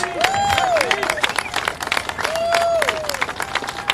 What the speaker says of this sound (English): let's have a round of applause for those who went to prison, who signed letters